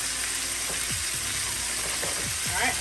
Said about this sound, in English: we're going to stir our eggs like so